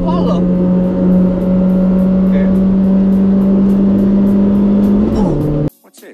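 Honda Brio car in a race accelerating at speed, a loud steady engine drone that holds pitch for several seconds before dropping slightly near the end and then cutting off abruptly.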